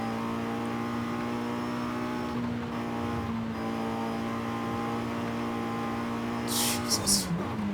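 A race car in the video game Forza Horizon 5 gives a sustained, droning engine note that holds steady at high revs, with gear-shift dips partway through and a brief change near the end, loud and continuous.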